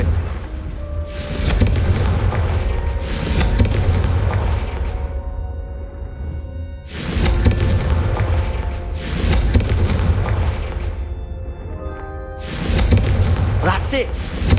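In the Hogwarts Legacy video game, Confringo fire spells blast candelabras, sending out a series of loud, deep booming bursts about every few seconds. Each burst is followed by a rumbling tail, with game music and voices running underneath.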